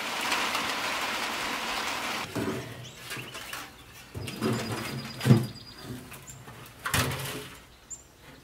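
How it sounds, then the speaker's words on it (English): Rain falls steadily outside a farmhouse at night in late winter, a soft hiss broken by a few louder drips and thumps, with no voices. "it was raining earlier and it's still coming down"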